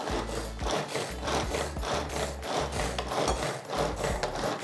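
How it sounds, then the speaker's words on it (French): A kitchen blender mixes recipe ingredients with a loud, coarse, continuous grinding roar that pulses in rough, uneven waves, heard close and alone. "Voilà, donc ça, on va mixer."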